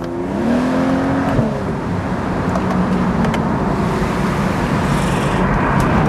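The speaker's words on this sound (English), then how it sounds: "That sound from that straight six is just golden." A BMW 335i straight-six revs hard and continuously, a loud, close engine drone with rising and falling pitch as it accelerates through gear changes.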